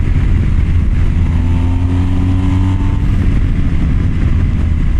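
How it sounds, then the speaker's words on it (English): A Harley-Davidson motorcycle cruises at 65 mph in gusty wind, a loud constant low engine drone buried under heavy roaring wind noise. "So 65 miles an hour. Wind is throwing me around everywhere here."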